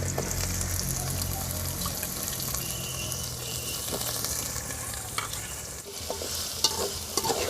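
Eggplant, drumstick and potato sautéing in a pan give off a steady, close sizzle with scraping stir noises over a constant background hiss, and no voices.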